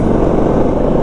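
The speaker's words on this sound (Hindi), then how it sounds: "अभी थोड़ा सा ट्रैफिक है यहाँ पे।" Steady road traffic rumble heard from a motorcycle on a hill road in India near Narendra Nagar and Muni Ki Reti on an overcast, rainy-looking day, a continuous dense low engine and road noise with no clear breaks.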